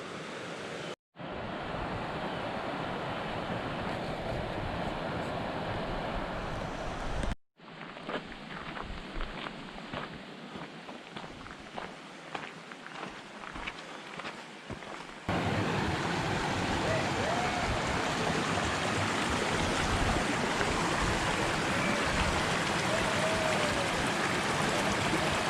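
Little Elk Creek in the Black Hills of South Dakota flows steadily beside a hiking trail, a continuous broad rush of water that grows louder and fuller in the second half.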